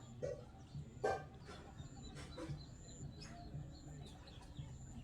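Birds at a rooftop loft, with sharp chirps and calls scattered through the clip over a soft background, fairly close and moderately quiet.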